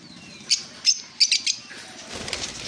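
Caged green finches and other pet birds such as lovebirds, cockatiels and Java sparrows at a bird sale, with several sharp chirps and short bursts of wing flapping up close over a quiet background.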